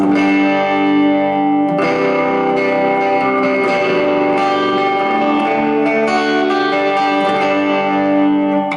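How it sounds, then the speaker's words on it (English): Electric guitar ringing out chords through a reverb pedal, a washy reverb tail, notes blending and sustaining into one another, loud and close with no voices. "a reverb pedal is quite nice"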